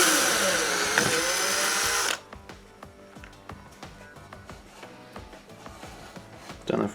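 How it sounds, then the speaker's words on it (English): Close-up power drill boring a hole into plasterboard with a 6mm bit, a loud steady whine lasting about two seconds before cutting off, followed by quiet clicks and handling noises and a brief final burst. "So first we have to drill the hole in the plasterboard using"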